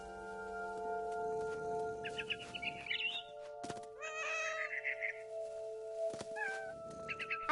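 A cat meowing in the video game What Remains of Edith Finch, a few short clear meows over a steady ambient hum with a couple of dull thumps, no talk.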